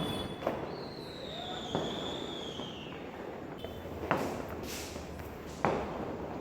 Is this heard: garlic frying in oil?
no